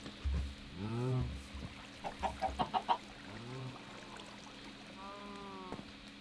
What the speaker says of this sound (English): You stupid chickens.